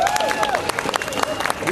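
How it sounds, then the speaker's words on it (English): Audience applause at a poetry tribute event honoring sponsors, a dense burst of clapping from a crowd with cheering voices and whistles mixed in, loud and steady throughout the short span. "please let's give them a round of applause as I announce their name"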